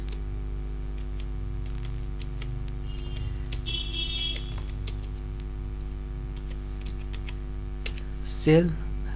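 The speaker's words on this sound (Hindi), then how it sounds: "यहाँ पे कोई ट्रांजैक्शन टाइप कर लेंगे" Steady computer keyboard typing as a transaction narration is entered in Tally ERP 9 accounting software, with quick close keystrokes running across the whole stretch.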